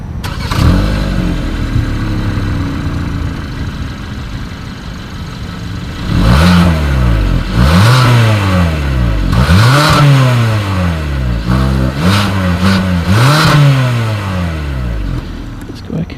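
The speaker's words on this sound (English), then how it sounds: "Here is that exhaust clip." A 2020 Hyundai Santa Fe SUV with a single exhaust and chrome tip idles, then is revved four or five times in quick bursts, each rise and fall loud and close from behind the vehicle.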